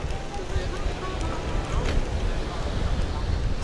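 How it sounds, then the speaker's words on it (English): Strong wind roars steadily across a seaside pier at Belmont Shore, a dense, gusty rush buffeting the microphone with surf underneath and no clear talk. "It's very windy out here."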